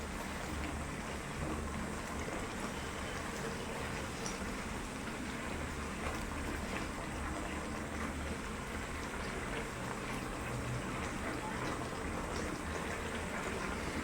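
Chital fish simmering in a mustard oil curry with sliced green chillies, giving a steady, faint bubbling and hissing that stays even and unbroken throughout, with no voices.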